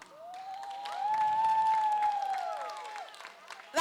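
A church congregation claps for God at an anniversary celebration. The scattered clapping swells and fades over a few seconds beneath a sustained, sliding, high-pitched cry, with a sharper burst at the very end.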